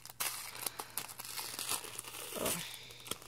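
Tissue paper crinkles and rustles with repeated close crackles and a short tearing swish while a reborn doll box is unwrapped, the handling steady throughout.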